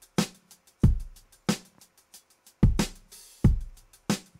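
Unprocessed drum beat in a music production, with punchy kicks and snare-like hits in a loose repeating groove, each hit loud and close with short decays and faint ticks between them.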